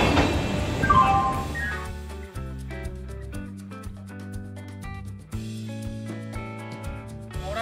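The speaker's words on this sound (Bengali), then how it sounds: "হাওড়া থেকে 11:35 ট্রেন ছাড়লো মুম্বাই মেল।" Howrah–Mumbai Mail express (12321) pulling out of platform 8 at Howrah station: a steady low rumble of the moving train with layered tonal hums and whines, rising and shifting as it gathers speed, no voices.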